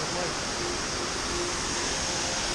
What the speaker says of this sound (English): Look at this fucking waterfall, it's amazing.